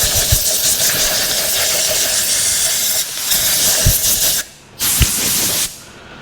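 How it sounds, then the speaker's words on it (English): Paint spray gun blasting dried paint out of its cup, a loud harsh hissing rush of compressed air that runs continuously, briefly cutting off twice before resuming, with faint clicks underneath. "Just blow all the dry paint out of a cup."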